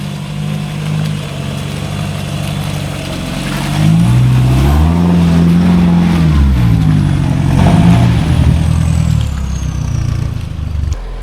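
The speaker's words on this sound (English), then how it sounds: "So Adrian's gonna have to back the Lux to the bottom for another go." Toyota Hilux reversing down a wet off-road hill, its engine droning steadily and close, rising in revs midway then easing back, with no talk over it.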